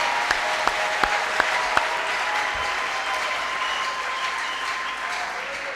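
A church congregation applauds and ululates in praise of God at a worship service: a few sharp claps up front, then a steady wash of clapping with sustained high trilling voices at moderate loudness.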